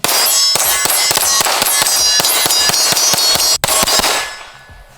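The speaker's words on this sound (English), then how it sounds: "a couple shots out of the Alien, see how it runs" A Laugo Alien pistol fires a rapid string of about fifteen loud, sharp shots with metallic ringing at an outdoor range, in a fast even rhythm and close by, before the echoes fade out.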